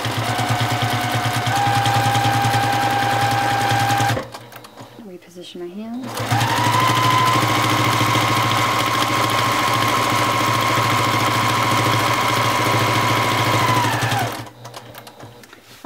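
A home sewing machine stitching in the ditch on a quilt block during free-motion quilting runs as a steady, loud hum with a brief pause partway through. A voice speaks over the machine.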